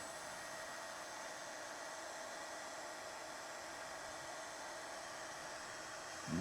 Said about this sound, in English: So it'll take this little heat gun a minute to shrink down this heat shrink here.